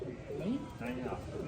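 Pigeon cooing at a racing-pigeon loft, two soft rising-falling coos close by over low background noise.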